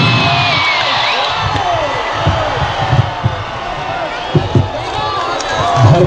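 A crowd at the Mysore Dasara air show applauds and cheers as an Indian Air Force paratrooper lands, a sustained roar of clapping and shouts with a voice speaking over it.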